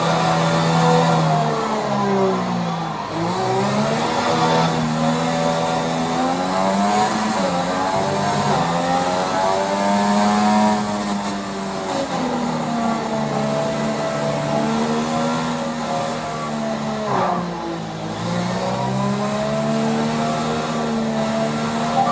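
Race car engine in a Formula-style racing video game played on Google Stadia, loud and close, wailing steadily as it accelerates, pitch climbing and dipping repeatedly through gear changes, with faint tyre squeal and no talking.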